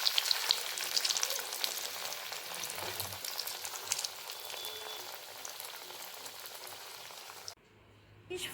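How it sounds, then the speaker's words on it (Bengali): Breaded boal fish fry pieces crackle and hiss in hot oil, a dense close sizzle that fades toward the end and drops to near quiet for the last second. "এইভাবেই আমি আস্তে আস্তে বাকি ফিশ ফ্রাইগুলোকেও ভেজে নেব"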